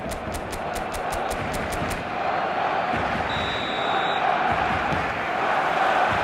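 Stadium crowd noise in the football video game eFootball, a broad continuous roar of fans that swells slightly midway, with sharp rhythmic claps or drum hits at the start.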